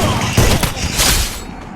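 Bursts of gunfire crackle in a video game, loud and dense rapid shots overlapping in a continuous volley with no talk over them.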